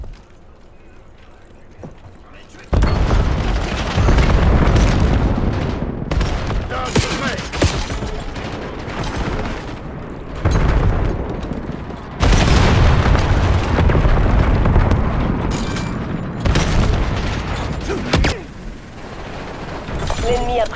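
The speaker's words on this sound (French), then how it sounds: "L'ennemi a tiré un missile de précision." Dense Call of Duty Black Ops 7 multiplayer combat, with heavy precision missile blasts and booming explosions over rapid gunfire bursts, loud and nearly continuous, while game announcer voices speak in French.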